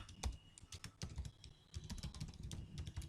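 Rapid, uneven keystrokes on a computer keyboard while entering an error message into Laravel 8 code, clattering steadily and close up for about three seconds with no voices.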